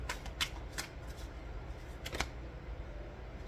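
Tarot cards being shuffled by hand, a quiet riffling run of crisp paper flicks in short bursts, several near the start and another pair later, close and fairly soft with no talk over them.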